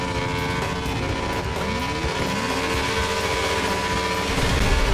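Racing motorbike engines, including stock Yamaha Aerox scooters, rev loudly at a Saturday night drag event, with rising and falling whines sweeping over a dense crowd-and-engine roar, steady throughout.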